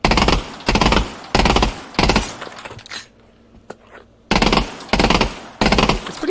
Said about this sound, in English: you're going to shoot 2 bursts and just jam that down and left